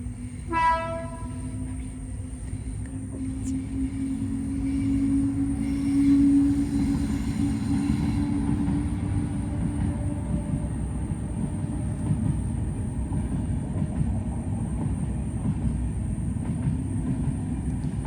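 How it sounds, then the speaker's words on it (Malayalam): A train passes along a railway line beside a forest at night, opening with a brief horn blast, then a long, rumbling roll of wheels and cars that swells midway and stays loud to the end. "ട്രെയിൻ പോകുന്നുണ്ടോ?"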